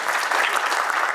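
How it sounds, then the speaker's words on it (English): Dense, steady clapping from a conference audience at an oil industry gathering in Dubai, a brief continuous burst of many hands at close range. "A big round of applause."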